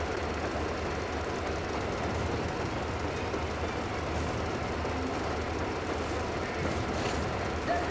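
Train rolling out of a facility in the video game Metro Exodus, a steady dense rumble of wheels and engine at even loudness throughout with no talking.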